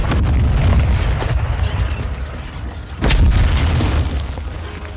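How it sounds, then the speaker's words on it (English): An enemy attack helicopter in a video game is shot down and explodes, with heavy booming blasts and crackling bursts, a louder explosion hitting about midway, all loud and close amid battle noise. "Enemy attack helo down."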